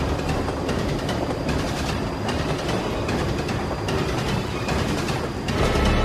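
A freight train passes close on the rails with a loud continuous roar and rhythmic clickety-clack of wheels over joints, plus faint metallic squeals.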